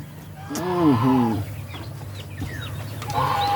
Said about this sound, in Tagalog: Yan po ang ating mga sisiw ng pabo.